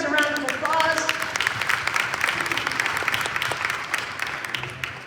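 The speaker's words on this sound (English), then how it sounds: "Give these guys a round of applause." Players and onlookers at a Hope College volleyball serve-and-receive drill session break into applause, a voice trailing off at the start before a burst of sharp, close hand claps that carries on unevenly and fades toward the end.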